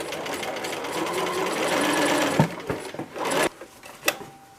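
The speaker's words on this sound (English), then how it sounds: "and then we can start sewing." A sewing machine runs in a steady whirring burst while stitching a non-woven polypropylene face mask, then stops and gives a few clicks and knocks of fabric and mechanism handling, close up.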